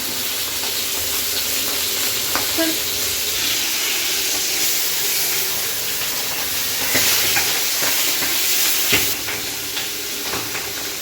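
Hot oil sizzling and spattering in a frying pan, a loud, steady hiss with scattered crackling pops throughout and no talking.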